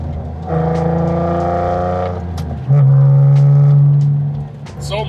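A BMW convertible with its roof off drives a winding backroad, engine droning steadily and rising in pitch as it accelerates, with wind noise over a close, loud cabin; a voice talks briefly.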